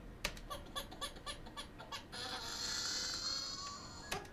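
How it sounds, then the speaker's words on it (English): A processed baby scream forms a bat sound effect for the game Alan Wake, a run of rapid, rhythmic squealing pulses followed by a sustained, shrill, screeching wail, fairly faint and heard alone. "So what I did, I took a baby scream"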